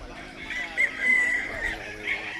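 A rooster crows on a hillside farm, a drawn-out call at moderate distance, with faint voices and outdoor ambience underneath.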